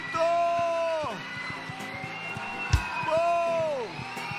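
A church congregation at a Brazilian worship service claps and cheers, with loud sustained shouts rising and falling twice over a scatter of hand claps and a sharp thump in the middle.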